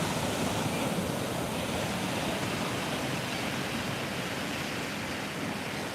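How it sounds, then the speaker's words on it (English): Ocean waves crash against rocks at San Bartolo beach in Lima, Peru, a steady, loud, broadband roar of surf with no break and no voices. "listening to the ocean crash on the rocks"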